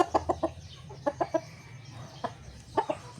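A young Talisay Grey stag chicken in a backyard farm gives several short clucking bursts in clusters, fairly near, over a low steady background rumble.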